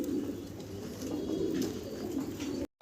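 Pigeons on a breeder's pigeon farm coo steadily in a low, continuous murmur that runs for nearly three seconds and then cuts off, with no voices over it.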